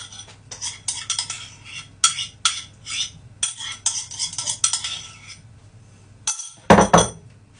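A metal palette knife clinks and scrapes against a dish while spreading jam for a jam slice, a run of quick close taps and scrapes with short pauses, ending in a louder clatter.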